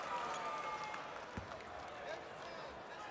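North Shore basketball fans at a state championship game rise, cheer and applaud in a steady, dense roar of crowd noise that fills the gym throughout, with a commentator talking over it.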